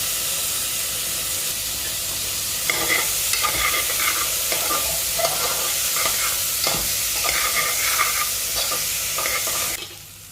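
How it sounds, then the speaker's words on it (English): Peas fry in a pot with a steady, close sizzle and hiss, while a spoon stirs them through in bursts of scraping and rustling, and no one talks. "Add in all the peas and cook it until it changes color slightly."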